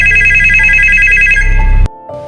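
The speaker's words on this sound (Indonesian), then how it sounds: "Dan lagi-lagi saat di rumah, telepon kembali berdering" A telephone bell ringing loudly with a rapid trilling pulse that stops abruptly near the end, followed by a brief quiet hum.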